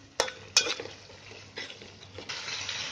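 Coconut, garlic and coriander paste frying in a pan, with a soft steady sizzle broken by a couple of sharp clinks of a spoon against the pan early on, then further stirring scrapes.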